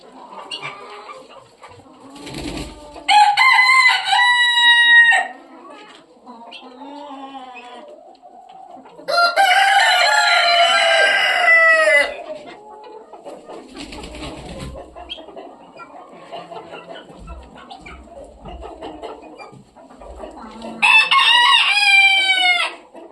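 Young chickens in a winter flock, with repeated loud rooster-like crowing bursts near the mic and softer clucking and calls between them, no talking.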